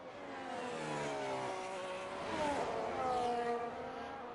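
A race car engine from an F1 video game revs and climbs through the gears on a lap, a steady whining drone that rises and shifts in pitch at moderate loudness.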